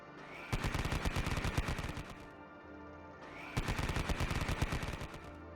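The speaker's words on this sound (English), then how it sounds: "is firing its autocannons and HMGs at the remaining battle frame infantry squad" Rapid heavy automatic fire from a Grizzly Walker's autocannons and heavy machine guns in a Konflikt '47 tabletop battle, two loud sustained bursts of dense rhythmic shots separated by a brief pause.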